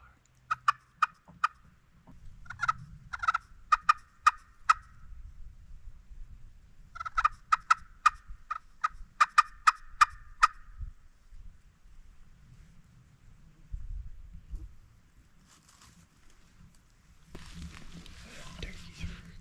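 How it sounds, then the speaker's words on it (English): Several bursts of wild turkey gobbling, fairly close, in Kentucky public-land woods during a spring hunt, in rapid rattling series separated by pauses, with faint whispering and rustling below. "That last gobble."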